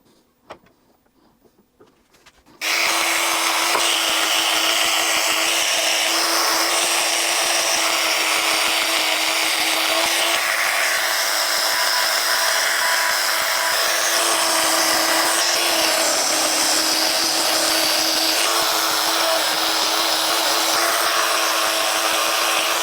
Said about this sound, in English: That's why I change to the micro drill and something like this.